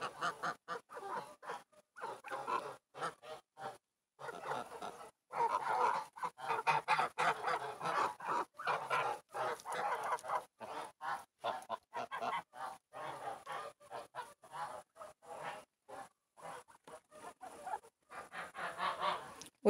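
Geese honk repeatedly while walking through a vegetable garden, a series of loud nasal calls in irregular bursts, some overlapping, close to the listener with short quiet gaps between them.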